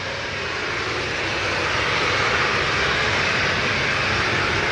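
An Airbus airliner landing at Manchester Airport, its engines producing a loud, steady broadband roar that builds slightly and holds throughout, with no voices.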